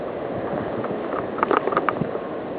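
Blizzard wind blows hard outside a house front, a steady gusty rush with buffeting wind noise on the microphone, loudest in a burst of flutters near the middle.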